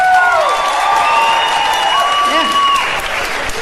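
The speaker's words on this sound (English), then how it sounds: "Applaud if you got kids." A comedy club audience applauds and cheers at a stand-up show, a loud, continuous wash of clapping with keyboard tones ringing over it. A voice speaks briefly.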